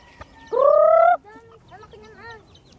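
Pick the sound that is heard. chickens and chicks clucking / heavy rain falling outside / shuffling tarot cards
chickens and chicks clucking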